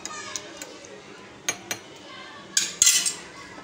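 A spoon stirring cinnamon into a fat cutter drink, with a few light clinks against the glass and a brief clatter near the end, close and quiet with faint background voices.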